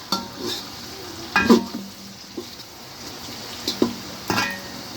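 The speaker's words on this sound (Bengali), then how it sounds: "আলুটা ভাজা হোক, পেঁয়াজটা ভাজা হোক" Potatoes and onions fry in a pan with a low, steady sizzle, broken by a few sharp clinks and scrapes of a spoon stirring against the metal.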